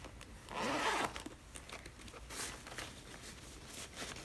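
A pencil case zipper is pulled open in one quick, close rasp lasting about half a second, then light handling and rustling of the case and its contents at a watercolor painting desk.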